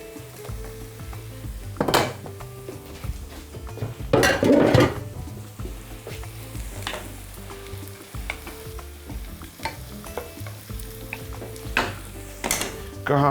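Beef tenderloin sizzles steadily in a hot pan while a utensil stirs it, with loud bursts of scraping and clattering against the pan at intervals.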